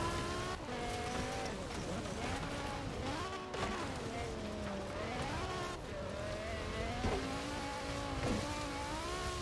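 A BMW M3 E30 rally car in Forza Horizon 4 revving and accelerating hard, its engine note climbing and shifting in waves with a skid, continuous and fairly loud throughout.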